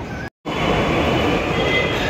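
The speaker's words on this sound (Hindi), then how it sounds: "ये आ गई हमारी मेट्रो" A Delhi Metro train pulls into Rajiv Chowk station with a steady, loud rumble of wheels and carriages, broken by a brief dropout near the start, then rolling on continuously with no voices.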